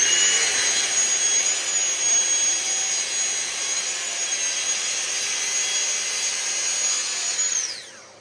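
A Festool track saw runs along a guide rail through wood as one loud, steady whine with a constant high tone for about seven seconds, then winds down at the end of the cut. It is close and loud, with no talk.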